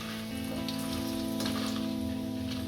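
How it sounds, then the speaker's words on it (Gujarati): Potato wafers fry in hot oil at low heat, a steady fine crackling sizzle with a few brief pops, close and fairly quiet, with no talking. "હવે આમાં વેફર તળી લઈશું।"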